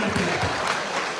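Audience applause at an inspirational speech event in India, a dense patter of clapping from a crowd, steady and moderately loud across the moment.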